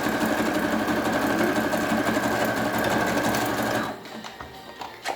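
A sewing machine runs zigzag stitches around the edge of a fabric cover with bias binding, a fast, even mechanical whir that holds steady for about four seconds, then stops into quieter handling noise.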